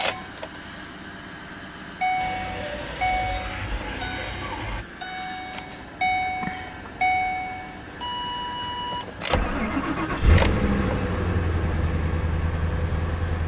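Several chimes and beeps sound at intervals, then a car engine turns over and settles into a low, steady idle close by.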